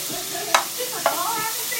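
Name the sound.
margarine sizzling in a pan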